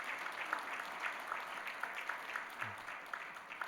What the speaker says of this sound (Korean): 우리 격려의 박수 한번 드리겠습니다.